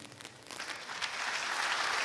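Audience applause at a French-language government presentation, a steady clapping that swells and grows louder over two seconds, with no voices on top.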